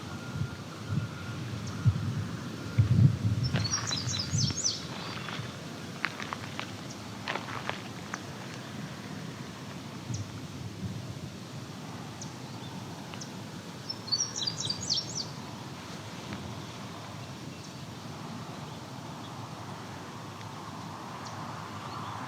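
Song sparrow singing along a backroad on the Ferndale flats near a creek, two short, faint phrases some distance off, heard over footsteps and wind noise with no one talking.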